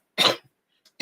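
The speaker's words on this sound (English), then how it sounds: "I went quite a long time with that coughing." A woman coughs twice while working on a kings-and-queens junk journal craft project, with a short harsh cough, a brief faint catch, then another cough starting, close and clear in a quiet room.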